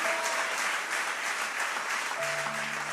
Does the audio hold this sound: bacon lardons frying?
no